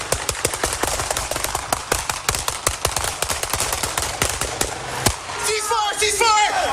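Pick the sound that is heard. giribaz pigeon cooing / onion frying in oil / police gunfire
police gunfire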